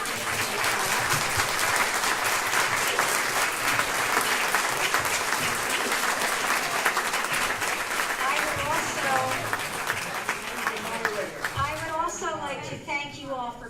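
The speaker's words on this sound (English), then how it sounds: "you may applaud all the candidates." A council debate audience in a township hall gives the candidates sustained applause, with dense clapping throughout. It tapers off near the end as voices and chatter rise.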